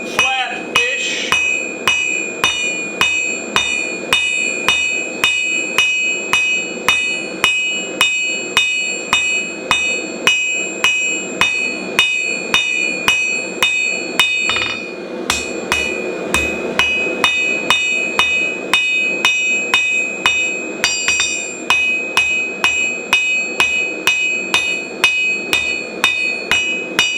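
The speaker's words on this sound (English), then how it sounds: "I'm using a French style hammer" A French style hammer forges a nail flat into a knife blank with steady, evenly spaced ringing blows, dozens of strikes in a regular rhythm, close and loud, with a brief pause midway.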